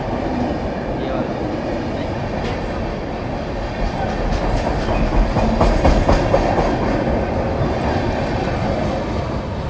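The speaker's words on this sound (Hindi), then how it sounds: "सौराष्ट्र जनता एक्सप्रेस सूरत रेलवे स्टेशन से डिपार्ट हो चुकी है" Saurashtra Janata Express train departing Surat railway station, a continuous loud rumble of rolling railcars with rhythmic clickety-clack of wheels over rail joints, steady throughout with station ambience.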